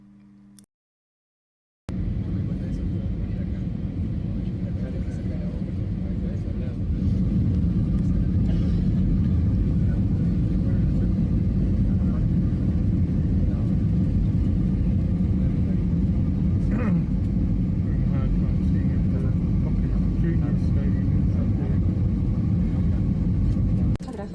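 An airliner taxiing to the terminal beside the Río de la Plata produces a loud, steady low cabin rumble that runs continuously after a brief silent moment at the start.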